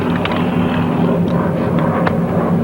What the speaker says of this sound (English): 3 enemy planes approaching from the east.